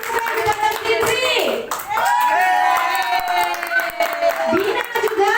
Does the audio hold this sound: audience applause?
yes